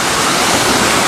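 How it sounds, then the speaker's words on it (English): A waterfall on the Life University grounds in Cobb County, heard as a loud, steady broadband rush close by with no voices over it. "waterfall in the back of me"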